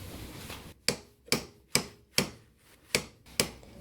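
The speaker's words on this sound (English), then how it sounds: "we're going to try and hit this out with a drift just now" A hammer taps a drift to knock a part out of a classic Mini's swivel hub, giving about seven sharp, evenly spaced metallic strikes close by, with no talking.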